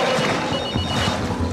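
A mobile phone rings loudly in a dramatic scene, its tone partly buried in dense, busy background sound for a short stretch with no speech.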